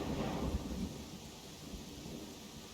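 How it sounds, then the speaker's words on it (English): Steady rain with a low thunder rumble in the fantasy RPG Pathfinder: Kingmaker, a louder rolling swell in the first second easing into a continuous wash of rainfall. "Oh, right, because it's raining."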